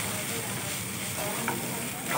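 Spiced potato vada stuffing with salt and crushed red chilli is stirred and mixed in a hot pan, giving a constant close sizzle with faint scraping touches near the end.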